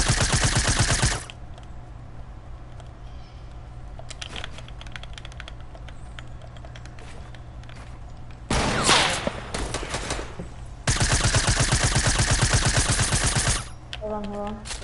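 A suppressed SMG fires in a PS4 video game in rapid automatic bursts: one at the start and two more later, with quieter game ambience between them.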